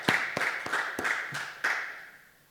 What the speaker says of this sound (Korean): 박수로 우리 하나님께 영광 드립니다